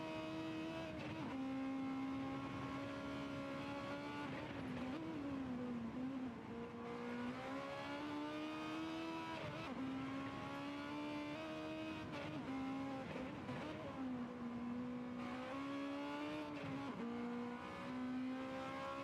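A Honda Civic Type R engine in Gran Turismo 7 on the Trial Mountain circuit drones and climbs through gears, rising in pitch, briefly dipping at each shift, then pulling again, steady and loud with no talking.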